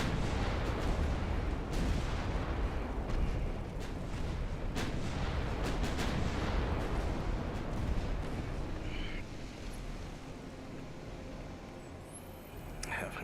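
Warship main guns fire in a naval battle in the Ultimate Admiral Dreadnoughts game, a dense run of loud, rumbling booms and blasts that keeps a heavy, steady roar throughout, easing slightly near the end.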